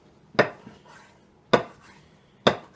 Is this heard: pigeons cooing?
no